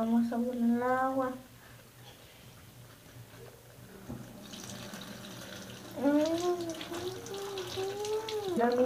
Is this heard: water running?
yes